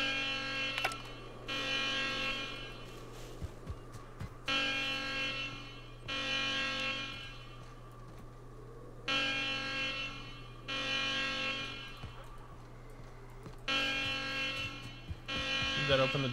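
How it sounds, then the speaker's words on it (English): A repeating alarm in The Outer Worlds video game: a loud, harsh buzzing blare sounding in regular bursts about two seconds long with short gaps, over a constant low hum and faint game effects. "The next person who sets the alarm off as a joke is getting the lost time taken out of their paycheck."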